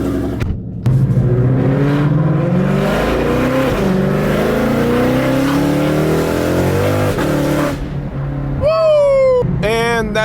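A Shelby cold start: the engine fires with a loud catch and settles into a high, wavering idle, then sharp revs near the end, close up, with a voice briefly at the end.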